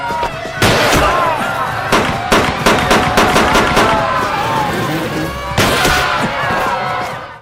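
Gunfire in a film scene, a series of sharp, loud shots fired in a rapid burst, then a pause and more shots, with background commotion and echoes between them.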